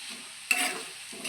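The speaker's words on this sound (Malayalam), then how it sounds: "മുരിഞ്ഞ് വരുന്നുണ്ട് ബീഫ് ഫ്രൈ" Beef chilli sizzles steadily in a pan while a spoon scrapes and stirs it, with one sharper clatter of stirring midway; close and moderately loud, with no talking.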